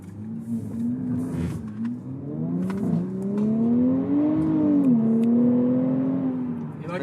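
A brand-new 2023 Nissan Z engine rises steadily in pitch as the car accelerates, with a smooth climbing drone heard from inside the cabin and a brief dip before it pulls again.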